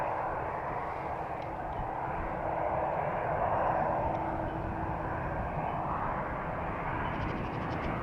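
An EasyJet Airbus airliner departs Amsterdam Schiphol's 36L Polderbaan runway with a continuous broad engine roar, fairly distant and steady, swelling slightly in the middle.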